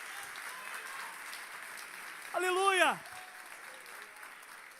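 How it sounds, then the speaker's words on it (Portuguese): An audience applauding steadily under a preacher's voice at a church service, with a brief sung, pitch-sliding shout rising above the clapping midway. "Aplauda bem forte o nome de Jesus."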